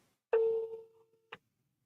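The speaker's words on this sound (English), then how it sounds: "number ringing, phone ringing" A single electronic telephone tone sounds for about a second, steady and clear, followed by a short click in a quiet room.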